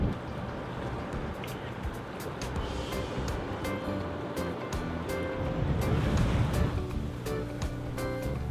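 Surf rolls onto Laguna, the city beach in Mindelo, in a constant washing roar with gusts of wind noise and faint background activity, no voices standing out.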